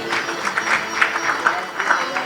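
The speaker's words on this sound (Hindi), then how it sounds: "उनको ताली से स्वागत कीजिए।" Audience at a Bhagwat Katha at Gopal temple claps in welcome, a steady patter of crowd applause with a speaking voice over it.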